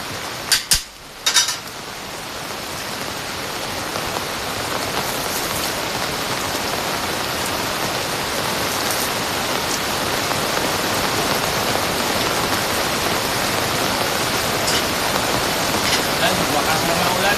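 Steady heavy rain pours down during outdoor welding work, a dense, even hiss of drops on surfaces that builds after a few brief knocks at the start.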